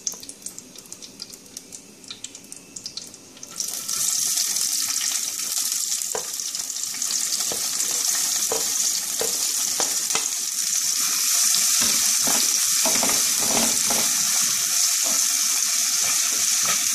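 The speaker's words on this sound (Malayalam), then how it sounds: "എണ്ണ ചൂടായി കഴിയുമ്പോൾ സവാള ചെറുതായി അരിഞ്ഞത് എണ്ണയിലേക്ക് ഇട്ട് കൊടുക്കുക" Finely chopped onion drops into hot oil in a pan, bursting into a loud, steady, hissing sizzle that continues for many seconds, with occasional stirring scrapes and no talk.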